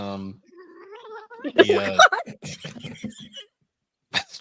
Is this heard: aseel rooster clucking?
no